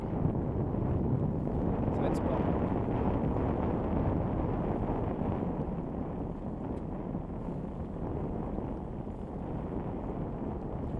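A west wind of about 10 knots buffets a sailboat preparing to dock, giving a constant broadband roar of gusts on the microphone, with a brief spoken remark.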